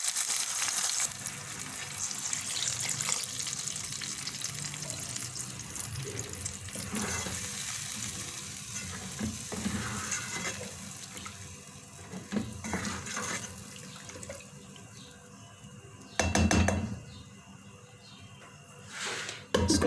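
Water poured into a cooking pot holding spices for chicken moti pulao, a steady running, splashing flow that carries on for most of the stretch, close to the microphone.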